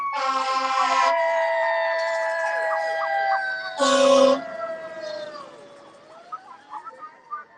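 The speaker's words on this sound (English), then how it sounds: "Hey, they got the sirens going." Loud wailing sirens at a street protest, with long rising and falling tones, interrupted by a couple of short harsh bursts, fading slightly near the end.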